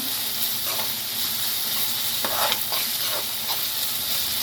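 Ginger garlic paste fries in a pan with a steady, close sizzle, broken by a few scraping stir strokes near the middle; no one speaks.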